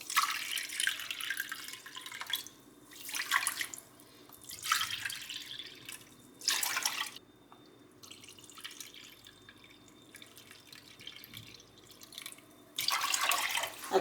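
Three cups of water poured into a pot of sugar for syrup, several separate splashing pours of a few seconds each with quiet pauses between, close and moderately loud.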